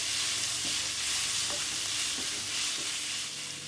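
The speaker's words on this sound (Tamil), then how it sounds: "உப்பு போட்டதுக்கப்புறமா நல்லா அந்த எண்ணெயிலேயே அந்த காய் கொஞ்சம் நேரம் வதங்கட்டும்." Salted cabbage sautés in oil for cabbage rice, giving a continuous, even sizzle with a few soft stirring taps and no talking.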